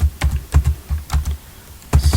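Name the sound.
typing on computer keyboard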